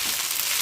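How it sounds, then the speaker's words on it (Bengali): Pasta frying in a pan, a steady close sizzle with a bright hiss that holds evenly through the short moment, no voices. "তো এটা এপিট ওপিট করে ভালো করে ভেজে নিতে হবে।"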